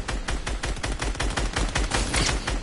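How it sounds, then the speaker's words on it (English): Rapid bursts of gunfire from a Fortnite match rattle on steadily throughout, dense overlapping shots in a continuous close barrage with no talking. "Who is shooting me?"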